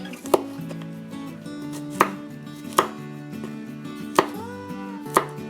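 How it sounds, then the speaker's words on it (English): A knife chops garlic cloves on a cutting board in a home kitchen, about six sharp, evenly spaced thuds standing out over a steady background of music. "I'm going to cut up a few cloves of garlic"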